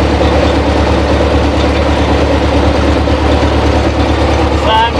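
A DT-54 crawler tractor engine runs loud and steady close by, with a constant low diesel rumble as it is put into first gear to move off. No distinct gear clunk stands out.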